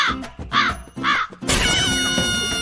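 A crow caws three times in quick succession, loud and close, followed by a brighter, sustained burst of sound.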